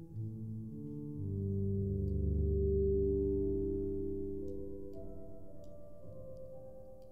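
An Ableton Wavetable synth sound runs fully wet through Convolution Reverb Pro, giving low sustained tones that swell and slowly fade into a dark, eerie wash.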